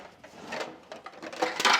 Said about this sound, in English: And then we also did a tray pull-out with secret drawer.